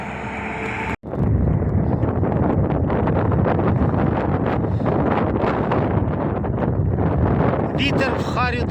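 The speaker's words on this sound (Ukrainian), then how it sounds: "Ні з того, ні з цього такий сильний вітер, що капець." Strong gusts batter the microphone in the Atacama Desert, Chile, in a loud, roaring rumble that keeps going after a brief cutout, with no voices over it.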